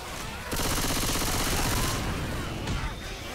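A rapid burst of automatic gunfire laying down cover fire in Left 4 Dead 2, loud and continuous for about two seconds before tapering off.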